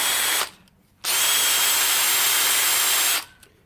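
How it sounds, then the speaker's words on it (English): A power drill whirs steadily, spinning a dirt bike part against fine 0000 steel wool to clean off carbon, running in two loud bursts separated by a short pause, with no talk. "put them on a drill like this"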